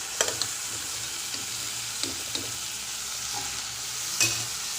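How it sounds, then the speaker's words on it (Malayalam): Coriander powder masala for Punjabi chole is stirred in a hot pan, a soft continuous sizzle broken by occasional light clicks and scrapes of the spoon. "മല്ലിപ്പൊടി അതിൻ്റെയൊക്കെ ഒരു പച്ചമണം മാറുന്നതിന് വരെ നമുക്കൊന്ന് ഇളക്കി കൊടുക്കാം"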